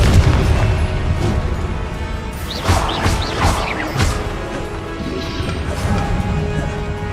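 Confringo blasting spells burst in Hogwarts Legacy, with several booming, crashing explosions over a dense, noisy game soundscape. Sharp blasts cluster in the middle.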